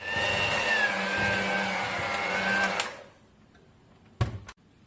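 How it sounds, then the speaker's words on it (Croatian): An electric hand mixer whirs steadily while blending chocolate cake batter with sifted flour, baking powder and cocoa, then cuts off, followed by a couple of short clatters of the beaters. "I mikserom lijepo sjedinimo."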